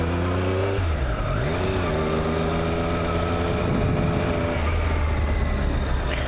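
A loud, steady Triumph Daytona 765 Moto2 Limited Edition motorcycle engine drones while riding, its pitch shifting as it changes speed, with constant wind rush over the microphone.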